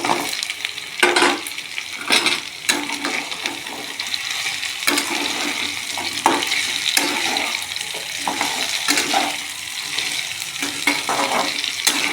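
Cut, washed ridge gourd added to potatoes already frying in a pan, producing a steady wet sizzle with repeated scraping stirs and rustling bursts throughout.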